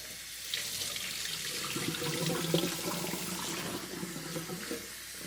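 Tap water runs steadily over fresh oysters being rinsed in a kitchen sink before a garlic and green onion stir fry, a continuous close splashing wash that lasts throughout with no voices.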